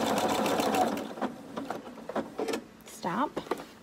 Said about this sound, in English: twist, sew across both seams